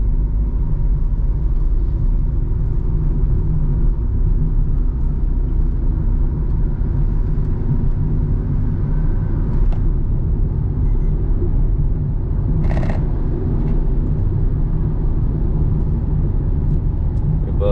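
Steady road rumble of vehicles passing fast on the Malshej Ghat road, a continuous loud engine and tyre drone with brief whooshes partway through and no talk.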